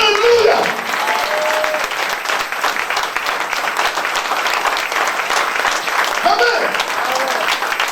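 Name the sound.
congregation applauding and acclaiming God in church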